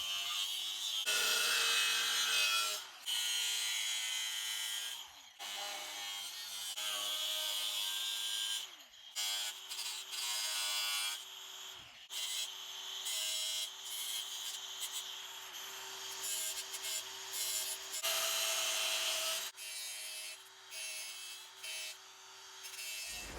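An abrasive cut-off disc cuts through a metal battery tray bracket for a Mercedes R107, a loud, steady high-pitched grinding whine with brief pauses and changes in pressure, close by and with no talk.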